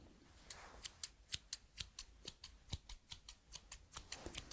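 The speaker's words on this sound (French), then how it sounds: "je vais vous faire un petit trigger relaxant avec des ciseaux" Scissors snipping as a relaxing ASMR trigger, giving a steady series of crisp, close, quiet cuts at an even rhythm with no talking.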